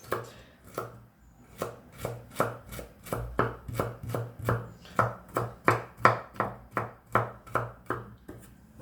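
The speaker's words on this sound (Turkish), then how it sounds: "Sebzelerimi doğrayıp devam edeceğim" Steady knife chopping of vegetables on a board, about twenty sharp rhythmic strikes at an even pace, close and clear with no talking.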